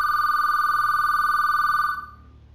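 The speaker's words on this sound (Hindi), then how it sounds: "तभी अचानक उसके फोन की घंटी बजती है।" A steady electronic phone ring with a bright, repeating warble, sounding continuously for about two seconds before cutting off.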